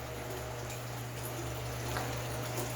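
Water runs steadily into gravel-filled aquaponic media beds built from reclaimed lumber, a soft continuous trickle and wash that swells slightly toward the end, with a low pump-like hum beneath.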